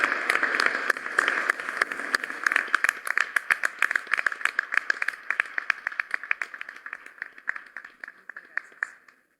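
An audience applauds at a book and documentary presentation on coffee, steady clapping that starts full and gradually thins into separate claps before dying out after about nine seconds.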